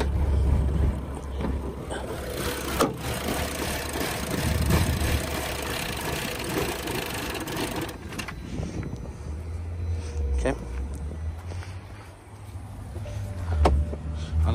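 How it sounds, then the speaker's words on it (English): A 2011 BMW 535i with an automatic transmission and twin-turbo engine idles with a low, steady hum, fairly quiet and close, with faint shifts in tone as it runs. "It's an automatic, twin turbo, four cylinder."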